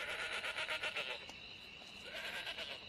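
Goats, animals kept in herds, bleat in quick wavering cries. The calls are faint and sit over a soft steady background, with a brief lull between them.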